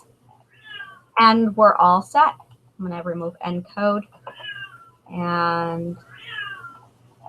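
An old, ailing female cat meows loudly and repeatedly nearby, its drawn-out cries mixing with a person speaking over them indoors.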